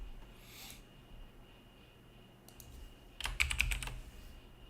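Keys on a computer keyboard are tapped to enter a stock ticker, a few soft scattered presses and then a quick burst of several clicks near the end, fairly quiet and close.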